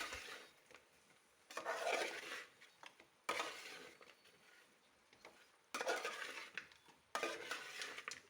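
Cooked bone-in beef and tapioca are stirred in a pot, with a utensil rasping and scraping through the thick mixture in several separate bursts of rubbing strokes. The sound is close, with brief quiet gaps and no voices.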